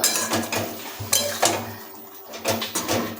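Ridge gourd pieces are stirred into spice masala in a pan, a close series of metallic scrapes and clanks from the spoon against the pan coming in irregular bursts.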